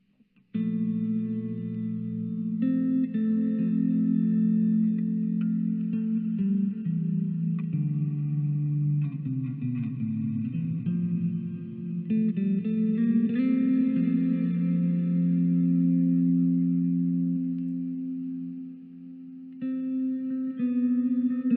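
Electric guitar notes ring out steadily through a lush, deep reverb, a low octave-down shimmer swelling beneath the high picked lines, eerie and sustained throughout.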